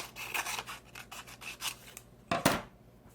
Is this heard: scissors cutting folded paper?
yes